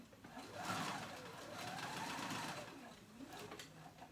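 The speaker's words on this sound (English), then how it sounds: "it makes it a little bit easier to do on the sewing machine" A sewing machine runs in a fast mechanical whir, speeding up and slowing between short stitching runs, fairly quiet and close.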